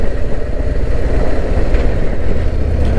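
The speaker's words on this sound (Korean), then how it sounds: "엔진 소리가 우렁차면서도 저음이어서 듣기가 좋습니다." Harley-Davidson Road Glide motorcycle engine, a Euro 5 model, running with a deep, loud, steady low rumble and no gaps, heard alone without talk.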